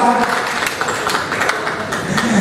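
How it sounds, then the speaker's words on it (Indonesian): Steady applause from an audience at a press conference launch event in Jakarta, a dense continuous wash of clapping with a faint voice mixed in. "Kita berikan tepuk tangan"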